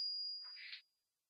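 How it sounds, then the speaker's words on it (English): A genuine gold Krugerrand coin is struck by a small hammer tester and gives one bright, sustained metallic ring, close and clear, fading out within about a second. "The ringing sound you hear is a sound a genuine Krugerrand makes when it is rung by the ringer."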